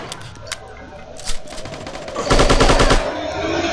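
Enemy gunfire in the video game Striker chapter 2: scattered single shots early, then a loud rapid burst of automatic fire near the end, close and sharp.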